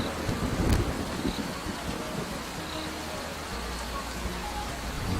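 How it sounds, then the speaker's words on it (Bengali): Rain falls steadily at night near a village pond, a dense, even wash of drops with gusty low rumbles of wind against the microphone. It runs continuously for about five seconds with no clear speech. "তার উপরে এই মরার বৃষ্টি শুরু হলো।"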